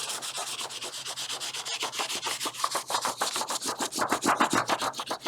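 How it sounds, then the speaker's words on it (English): Side of a peeled crayon rubbed back and forth over paper laid on a shoe, a steady run of quick, close scratchy strokes with no talking. "I'm going to rub it with the side of a crayon."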